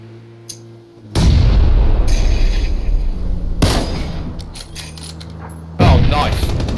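A grenade blast in a first-person shooter game, a loud broadband boom at about one second that rumbles on, followed by a second heavy burst near the end amid ongoing gunfire.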